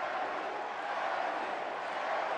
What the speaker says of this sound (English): Eddie, comes the yell from the crowd again